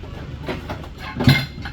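Pots from a five-piece metal cookware set are moved about, giving soft scattered knocks and one louder clink near the end, heard close.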